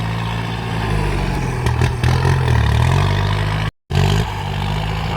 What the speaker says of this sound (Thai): รถไถมาปรับดินเนาะ ปรับหนทาง